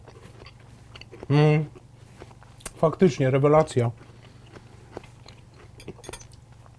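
Someone bites and chews a crunchy pickled cucumber: one brief loud crunch, then a second run of rapid crisp chewing crunches, close up, with a short spoken remark.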